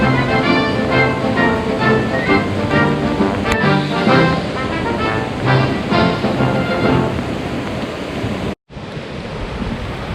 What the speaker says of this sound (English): Rumbling of thunder coming from all around.